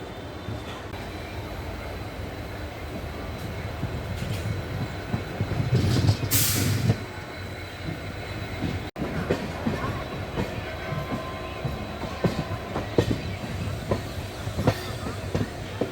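A MEMU commuter train departing platform 1 at Anand Junction for Khambhat: steady rumble of the cars rolling past, rhythmic wheel clatter and a brief squeal or hiss midway, loud and close.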